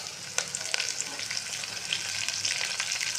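Mint leaves frying in hot oil for chicken pulao, a bright continuous sizzle with light stirring clicks, close and steady with no talking.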